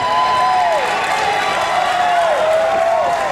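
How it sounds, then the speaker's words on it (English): Spectators at the 2007 US Racquetball Open finals make a sustained, loud crowd roar, with rising and falling whistle-like tones riding over the continuous noise. "The crowd's starting to make some noise."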